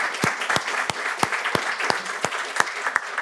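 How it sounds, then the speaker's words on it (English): Steady applause from an audience for a discussion panel, with many hands clapping continuously and a few sharp individual claps standing out, moderately loud and close. "Then I ask for applause for our panelists."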